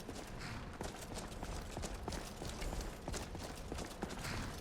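Hooves clip-clop steadily on hard ground from a horse in a video game, a quick, even rhythm of close, fairly quiet footfalls over a faint background.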